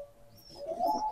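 A domestic pigeon coos softly and close by, a short low murmuring call that swells toward the end, with faint chirps behind it in a quiet loft.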